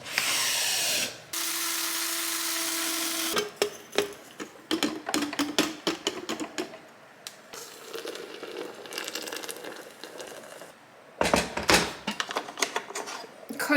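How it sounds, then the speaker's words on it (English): Coffee beans being ground fresh produce a steady whirring grind for a few seconds, then a run of irregular clicks, rattles and crunches at close range. "I don't know that I have time to be grinding my beans fresh"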